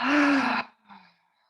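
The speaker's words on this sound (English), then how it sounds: "Big exhale." A long, loud voiced exhale during a guided meditation breathing exercise, a drawn-out sigh close to the microphone that stops abruptly, followed by a faint short breath.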